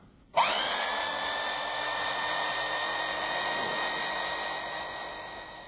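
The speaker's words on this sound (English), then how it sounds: "You will see from these vibration tests how the bolt force drops when the nut unscrews itself" A vibration test rig shaking a bolted nut starts abruptly and holds a loud, steady whining drone close by, tapering slightly toward the end.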